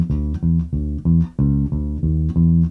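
Electric bass guitar playing the second bar of a riff: a steady run of punchy, deep plucked notes in a bouncing rhythm, close and clean with nothing else heard.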